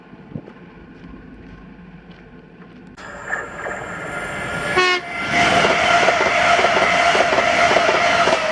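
A TransPennine Express passenger train from Glasgow Central to Liverpool Lime Street, worked by a class 350 unit, passes a station at Carluke with a loud two-tone horn blast, followed by a rising roar and clatter of wheels as it rushes by close.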